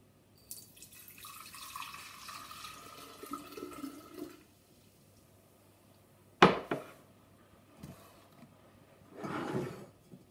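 White vinegar is poured into a container, making a gurgling splash that runs for a few seconds and then stops. A sharp knock and a brief second pour follow, heard close in a quiet room.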